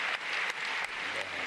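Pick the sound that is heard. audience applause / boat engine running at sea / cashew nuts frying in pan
audience applause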